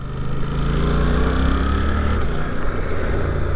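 A 2024 Suzuki GSX-8R motorcycle engine runs with a loud, steady, throbbing drone held close and even throughout.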